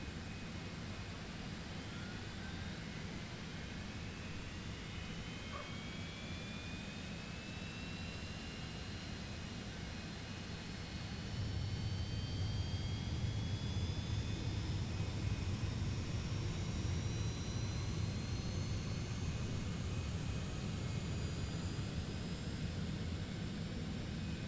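A Citation X business jet in Microsoft Flight Simulator 2024 spools up from start, a steady turbine roar with rising whine tones climbing over twenty-odd seconds, stepping louder partway through as the engine lights and settles, with no talk.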